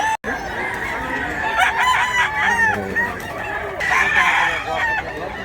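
Chickens cluck and a rooster crows repeatedly at an outdoor rural spot in Mantalungon, Barili, the calls overlapping amid steady background noise with no talk.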